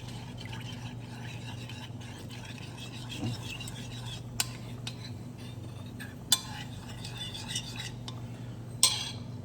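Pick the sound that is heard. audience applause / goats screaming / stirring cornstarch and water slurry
stirring cornstarch and water slurry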